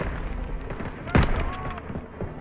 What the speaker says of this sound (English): I meant to throw that back and I threw my own grenade.